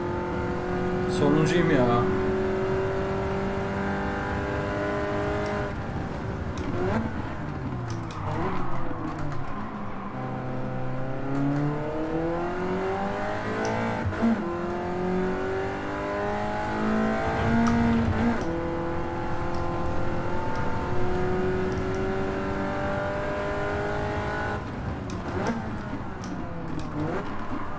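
A BMW race car in Gran Turismo 7 revs and shifts gears with a rising and falling engine whine, while someone talks over it almost the whole time.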